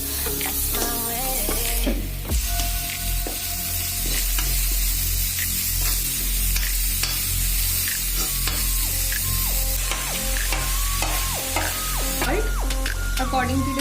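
Garlic sizzling in sunflower or soya oil for veg momo filling, a steady close fry with stirring and clinking pan noises throughout, no talk.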